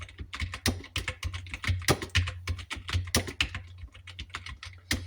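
Brisk, uneven keystrokes on a computer keyboard as Hindi text is typed, close and distinct, a quick run of clicks with short pauses and no voices.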